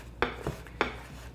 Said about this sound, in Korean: 이렇게 썰린 거를 다시 한번 반듯하게 채를 썰어 볼게요